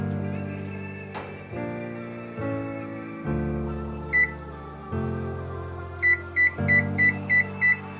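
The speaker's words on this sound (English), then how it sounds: "Let's preheat the oven." Kitchen oven being set to preheat for baking back ribs, a low running hum with short electronic control beeps, first a single one, then a quick series of five or six near the end.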